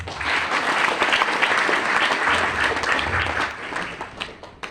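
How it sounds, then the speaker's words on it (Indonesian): A large audience applauds throughout, a dense and steady wash of clapping that stays loud before tapering slightly near the end. "Aplaus buat Rasul."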